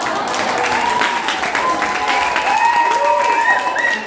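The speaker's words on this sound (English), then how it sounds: "Let's have a massive applause for Sky alone" Wedding guests applaud loudly and continuously, close clapping and cheering filling the room, with voices calling out over it.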